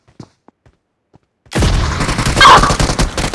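After near silence with faint clicks, a video game rocket launcher fires in a sudden loud boom, followed by sustained roaring, crackling blast noise close up, with no talk.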